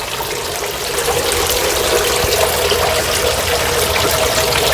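Water splashes and gushes steadily from the outlets of a DIY shrimp pond filter running with a low water level, a continuous close rushing with no talk.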